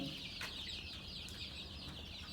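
Chickens around 28 days old cluck softly and continuously at a poultry farm, a dense flock chatter that stays steady and moderate throughout.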